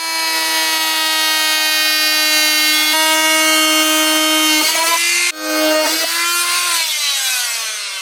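A continuous, loud power-tool whine cutting through a plastic car grille on a Nissan 350Z, steady in pitch with a brief dip and restart partway through, then winding down slightly at the end.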